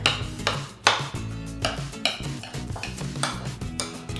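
Avocado, onion and other guacamole ingredients being mixed by hand in a bowl, with steady squelching, scraping strokes and occasional clinks against the bowl, close and continuous with no talk.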